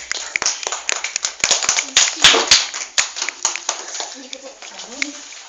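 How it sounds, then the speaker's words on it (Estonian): Audience applause at a puppet theatre: a burst of close, crisp hand claps that rises, then thins into scattered claps, with a voice speaking briefly near the end. "Aplaus, kõik aplodeerivad."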